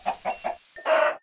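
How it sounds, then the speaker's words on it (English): A Minecraft chicken clucks three short times in a quick rhythm, then gives a longer squawk, close and clear with no talk. "Chicken! A chicken!"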